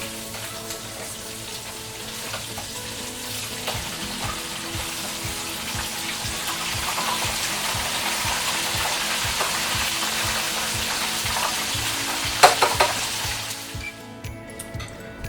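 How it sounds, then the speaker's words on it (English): Chicken frying in oil gives a steady, moderately loud sizzle with a watery hiss that continues throughout, fading slightly near the end. "All right, we finished frying our chicken."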